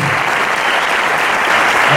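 Sustained applause from an audience at an award ceremony in Navarra, as a plaque and sealed parchment are handed over, steady and dense throughout.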